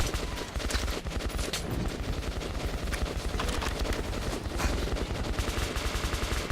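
Rapid, dense gunfire from the shooter game Metro 2033 Redux, loud and sustained throughout with tightly packed repeated shots and almost no talking.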